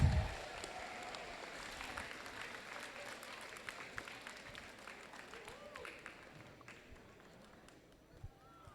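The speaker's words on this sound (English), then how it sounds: "Let's give one more round of applause for ItCon Future Generations." An audience at a robotics competition award ceremony applauds an award-winning team with sustained, moderately distant clapping that tapers off toward the end, while a voice speaks over it.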